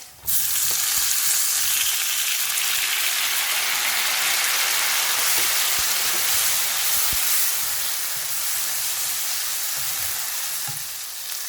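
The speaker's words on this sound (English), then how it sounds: "Now we are going to add 3 roughly sliced tomatoes." Roughly sliced tomatoes and browned paneer fry in a karahi with a loud, continuous, close sizzle and crackle, broken by faint occasional stirring taps.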